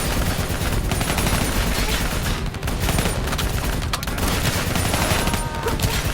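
Loud, steady gunfire rattles through a Call of Duty Black Ops III campaign battle, rapid automatic bursts running almost nonstop and layered with heavy impacts and booms.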